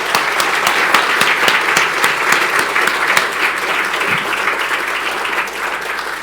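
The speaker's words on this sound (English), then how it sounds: "and round of applause, please." A conference audience applauds a group on stage after a team talk, sustained full clapping with sharp individual claps standing out, loud and continuous from start to end.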